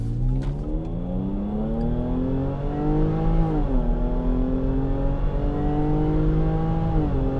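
Supercharged 380 hp V6 in a Jaguar F-Pace SUV revs hard and steadily, its rising engine note and supercharger whine rolling through two gear shifts, loud and close with no talk over it.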